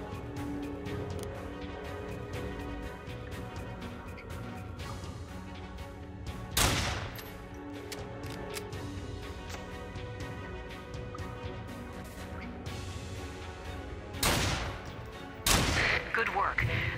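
Gunfire crackles in the post-apocalyptic shooter game Fallen Earth as snipers are taken out, a few sharp bursts standing out against a dense bed of game music and ambience, with no one speaking.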